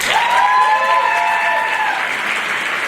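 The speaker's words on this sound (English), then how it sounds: "a round of applause for them too" A round of applause at a high school pageant event, sustained dense clapping from a crowd with a cheering voice rising over it early on, fading slightly toward the end.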